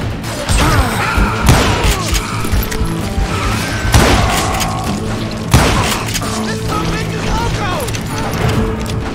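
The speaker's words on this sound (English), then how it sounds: "Why are you shooting at me?" Gunfire in the western game Call of Juarez: Gunslinger, with several heavy thumping shots at irregular intervals amid dense mechanical clatter and crashing impacts, all under a busy, loud game mix.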